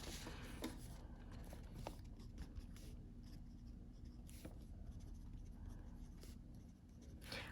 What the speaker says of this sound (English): I gotta go ahead and write that down.